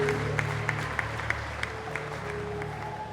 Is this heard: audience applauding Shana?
yes